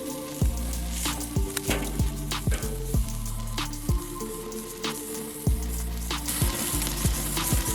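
A thick ribeye steak sears in a pan with butter, sizzling steadily and loudly up close, broken by regular sharp spits and clanks as it is flipped again and again.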